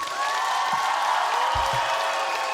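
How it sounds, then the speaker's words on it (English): Loud, sustained applause from a large audience, with cheering mixed into the continuous clapping. "Round of applause for my boy"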